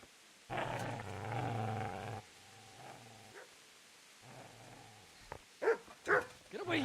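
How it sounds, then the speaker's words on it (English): A dog growls and barks in Kingdom Come: Deliverance, a long low snarl up front followed by quieter growls and a few sharp barks near the end, with no talking. "Get away, you mutt!"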